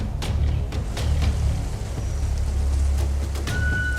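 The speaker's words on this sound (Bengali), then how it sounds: "এত সুন্দর রৌদ্রোজ্জ্বল দিনের পর এমন বৃষ্টি" Heavy rain falls after a sunny summer day, a steady close patter on surfaces with scattered sharp drips and a low rumble underneath, no voices.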